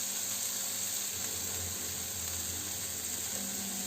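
Onion, ginger, green chili and curry leaves sautéing in a pan give off a steady, even sizzle and hiss that runs unbroken from start to finish at a moderate level, with no voices over it.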